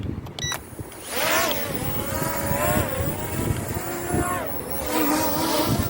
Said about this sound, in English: we've pressed this button here to unlock it, which now the blades are spinning